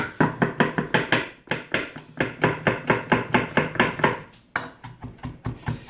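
A large garlic clove being smashed in a kitchen, a rapid series of sharp, evenly spaced knocking thuds against a board, loud and close, with a brief pause before the blows resume.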